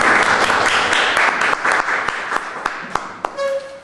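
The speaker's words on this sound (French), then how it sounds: "Applaudissements" A seminar audience applauds, starting as a dense burst of clapping and thinning into scattered individual claps, with a voice briefly heard near the end.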